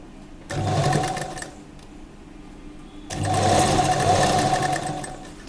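Sewing machine stitching seams on a lehenga, two loud close bursts of rapid mechanical whirring separated by a quiet pause.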